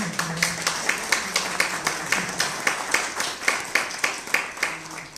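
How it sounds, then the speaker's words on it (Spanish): Students welcome a university speaker with applause at a history class event: a small group clapping in a fairly regular, spaced rhythm, moderately loud and close, continuing for several seconds with little talk. "Lo recibimos con un fuerte aplauso."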